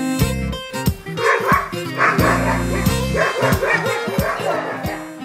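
Baikal husky sled dogs bark, yip and whimper in a busy overlapping chorus, loud and close, with several dogs calling continuously.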